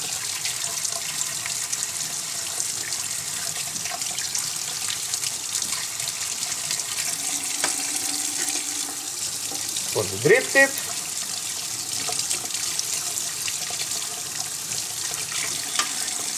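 Warm tap water runs steadily while parts of a JustFog 1453 vape tank are rinsed under it, producing a continuous hiss with a brief clink of handled parts near the middle; a voice speaks briefly.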